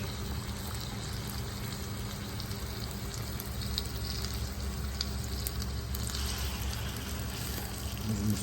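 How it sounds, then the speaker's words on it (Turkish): Steady hissing sizzle of battered banana frying in hot oil in a pan, close and continuous, with a faint bubbling undertone and no voices. "Hemen şu tarafında kızartıyoruz."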